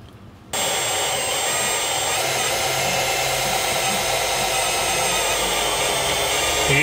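A power drill spins continuously to prime the oil system of a rebuilt LS3 V8 destined for a Mazda Miata, kicking on abruptly with a loud, steady high-pitched whir that holds evenly to the end.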